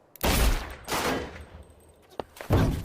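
Gunshots in the film Vengeance: three sharp, loud bursts of gunfire a second or so apart, each with a brief echoing tail, plus a small click between them.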